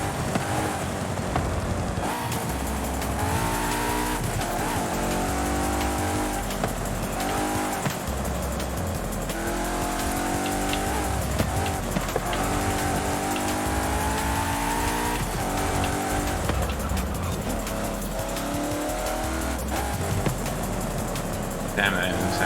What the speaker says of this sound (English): Damn, that engine sounds nice.